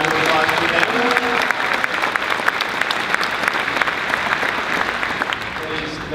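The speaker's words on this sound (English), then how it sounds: "If we can have a round of applause for them." College commencement crowd applauding for mothers on Mother's Day, loud, sustained clapping from a large outdoor audience with a faint voice murmuring underneath.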